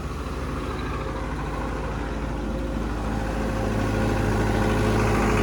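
A Belarus MTZ-82 tractor engine drones steadily as the tractor drives along, a constant close, loud rumble with no talk.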